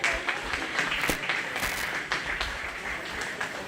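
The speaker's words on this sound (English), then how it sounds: "Let's go ahead and give those three a real nice round of applause." Audience applause at a county fair 4H/FFA goat show, a steady wash of clapping from a crowd that holds evenly through the whole stretch with a few sharper individual claps standing out.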